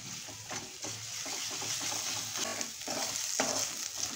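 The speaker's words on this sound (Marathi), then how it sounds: "आता आलं लसूणची पेस्ट छान अशी परतून घ्यायची आहे." Ginger-garlic paste sautéing in a pan for a ridge gourd bhaji gives a steady, close sizzle, with soft scraping stirs throughout and no voices.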